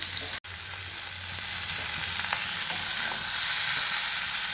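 Chicken pieces frying with Kashmiri and regular chilli powder for chilli chicken, a steady broadband sizzle throughout with a brief dropout near the start and a few faint clicks of stirring.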